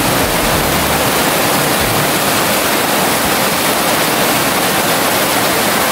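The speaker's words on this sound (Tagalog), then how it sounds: "tingnan nyo ang buhos ng ulan" Heavy rain pours steadily, a dense, loud, continuous roar of water with no breaks and no voices.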